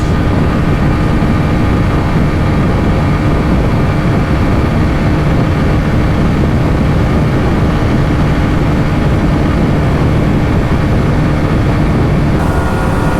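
A 160cc motorcycle races flat out in fifth gear at about 125 km/h during a 2025 Xtreme 160R versus Pulsar N160 drag race, its engine a loud, unbroken drone blended with heavy rushing wind.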